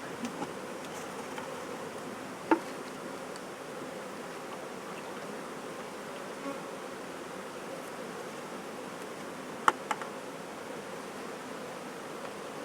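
Honeybees drone steadily around an Ashforth hive feeder, a continuous soft buzzing close by with a couple of faint clicks and taps, no talking.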